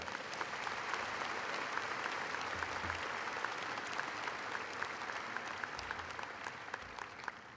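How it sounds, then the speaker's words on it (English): Audience applause fills a college of agriculture convocation ceremony: steady, dense clapping from a large crowd that holds evenly throughout at a fairly distant, hall-filling level. "Let's have another round of applause for Ryan"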